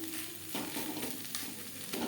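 Banana flower with spices being stirred in a hot pan makes a soft sizzle with bursts of scraping and tossing at intervals, close and fairly quiet.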